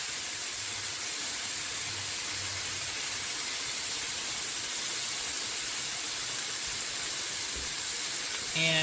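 Bacon fries in a pan with a steady, bright sizzling hiss that holds even and unbroken throughout, fairly quiet, with a brief louder rustle at the very end.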